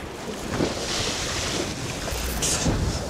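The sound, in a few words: strong wind outdoors by the sea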